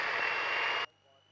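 A small airplane's piston engine roars steadily at high power during a pre-takeoff run-up, loud and close, then cuts sharply to a low idle hum after about a second.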